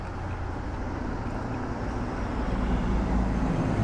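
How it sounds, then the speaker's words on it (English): A big truck rumbles past on a narrow one-way street in the Belgian Ardennes, a low continuous roar that builds steadily and grows slightly louder toward the end, heard from close by. "and there's a big truck as well."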